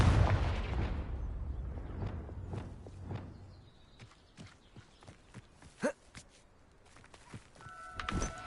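Confringo blasting spell from Hogwarts Legacy, heard as a series of sharp, booming explosive bursts that fade into scattered smaller impacts and footstep-like thuds, with a louder crack near the end.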